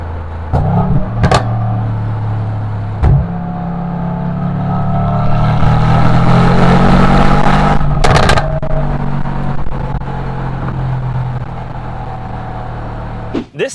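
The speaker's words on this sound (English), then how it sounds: "And continuing with this insanity is that exhaust note." A 2021 Mercedes GLS 63 AMG SUV starts with a sharp exhaust bark, then a deep V8 rumble swells as it revs and accelerates, crackles briefly and fades back to a steady drone, loud and near.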